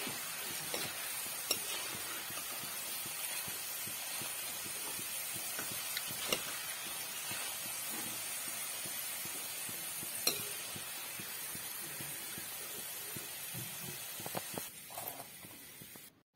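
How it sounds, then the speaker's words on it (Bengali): Chana dal frying in a pan for crunchy dalmut, a steady soft sizzle and hiss with scattered scraping clicks of stirring throughout, fairly quiet and close, no talk. "চানা ভাজা হয়ে গেছে"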